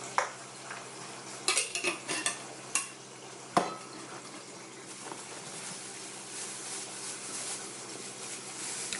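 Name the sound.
stirring a pot of plantain with Cameroon pepper and crayfish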